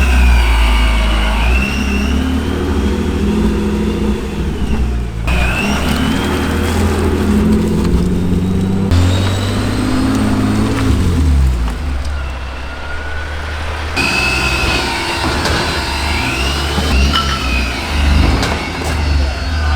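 A car is driven a short way to a dyno, its engine rumbling and revving up through several gear changes at close range. People talk over the engine at times.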